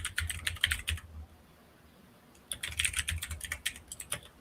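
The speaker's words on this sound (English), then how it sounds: "I like mechanical keyboards" Clicky keystrokes on a mechanical computer keyboard, fast bursts of typing that pause for about a second and a half and then resume, fairly close and alone without voices.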